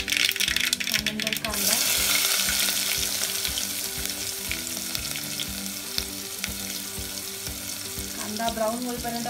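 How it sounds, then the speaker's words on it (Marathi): Mustard seeds crackle and sizzle in hot oil for a poha tempering, a dense, steady frying hiss with scattered pops and a few stirring clinks, close and continuous. "याच तेलामध्ये आपल्याला फोडणी घालून घ्यायची."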